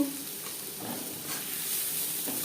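Chopped onions frying with turmeric powder in a pan for a Bengali sarputi fish curry, giving a continuous close sizzle with a few stirring scrapes, no talk.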